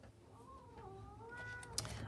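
A house cat meows in a drawn-out, wavering call from a room nearby, a short sharp bump near the end, over a steady low background hum.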